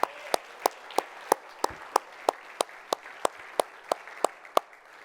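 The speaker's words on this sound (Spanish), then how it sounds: "Vamos a dar un aplauso al Espíritu Santo." Sharp, evenly spaced handclaps ring out in a church, a steady beat of single claps with a faint wash of crowd applause behind them.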